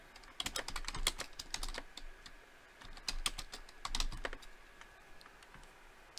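Keys clatter on a computer keyboard in two quick bursts of typing separated by a short pause, crisp clicks heard up close and fairly quiet, with no voices.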